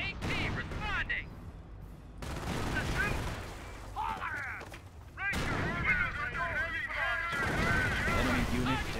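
Gunfire and artillery from the World War II strategy game Company of Heroes: repeated shots and blasts at mid distance, mixed with game voice callouts shouting orders over the battle noise.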